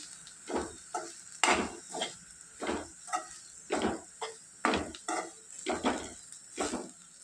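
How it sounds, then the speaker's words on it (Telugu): Ivy gourd fry being tossed with chili powder in a pan after the stove is switched off, heard as a steady run of about a dozen soft scraping strokes in an even rhythm, close by, with no voices. "స్టవ్ ఆఫ్ చేసుకొని కారం పొడిని అంత ముక్కలు పట్టేటట్లు కలుపుకుందాము"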